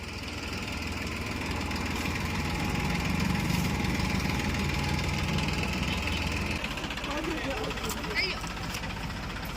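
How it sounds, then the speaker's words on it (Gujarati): A tractor engine drones steadily at close range with a low, even rumble that runs the whole length of the clip, and voices talk over it. "ખાલી ટ્રેક્ટરનો અવાજ સાંભળે ચારો ખાવા માટે આવી જાય છે."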